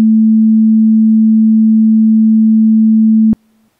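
A pure electronic sine tone at 220 Hz, the note A3, holds perfectly steady and loud for over three seconds and then cuts off abruptly, leaving a faint trace of the same pitch.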